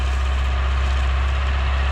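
A YuMZ D-240 diesel tractor engine runs steadily at idle, a loud, close, continuous low rumble with an even mechanical throb and no voices.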